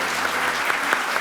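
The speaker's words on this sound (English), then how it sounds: "So give them a round of applause." Brief burst of steady audience applause at a panel talk, a continuous wash of clapping from a seated crowd with a few sharper claps standing out.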